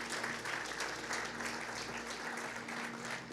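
A church congregation at a Spanish-language worship service claps in steady, dense applause, heard at a moderate distance and fairly quiet, with no talk over it.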